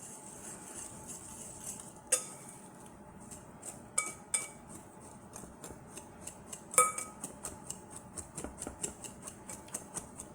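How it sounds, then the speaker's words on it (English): Seasonings are whisked into a seitan mixture in a bowl, a rapid train of light metallic ticks and clinks against the bowl, interrupted by a few sharper knocks, close and fairly quiet. "you're just gonna whisk that all up real good"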